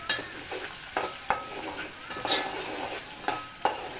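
Chopped onion, curry leaves and green chillies for upma get mixed in a pan, with a spoon knocking and scraping at the metal in a steady rhythm of about one stroke per second over a soft, faint sizzle.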